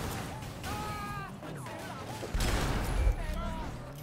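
Gunfire in the Sleeping Dogs video game, a loud thump landing around the midpoint over a busy game soundscape, with someone talking through much of it.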